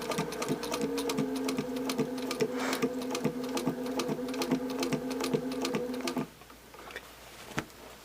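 A sewing machine stitches binding around a quilt corner, a rapid steady mechanical hum with rhythmic needle ticks for about six seconds before stopping, followed by a quiet click.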